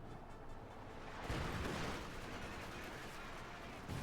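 Dense burst of gunfire in a Company of Heroes 2 match, an Oberkommando West versus Soviet battle, with machine gun rattle and surrounding combat noise continuing steadily and loud, swelling a little past one second in.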